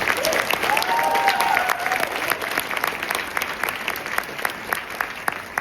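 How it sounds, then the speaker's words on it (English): An audience at an honors cohort exhibition night applauds the alumni with sustained, dense clapping that peaks early and gradually thins out, indoors and fairly close. "Can we please give them a round of applause?"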